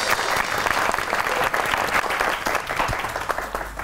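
Studio audience on the Pakistani comedy talk show Tanz o Maza breaks into sustained, loud applause welcoming a guest, a dense steady wash of many clapping hands with no voices over it.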